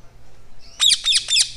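A baby Indian ringneck parakeet lets out three sharp, close squawks in quick succession after a quiet start, with no talking.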